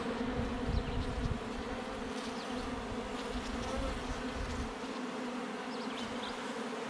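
A dense, steady drone of a swarm of honey bees buzzing close by, continuous and uninterrupted throughout.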